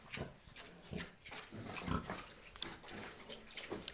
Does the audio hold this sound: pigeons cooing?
no